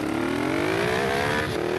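Honda Transalp motorcycle accelerating hard, a loud close engine note rising steadily in pitch as it revs up through the gear before a brief dip near the end.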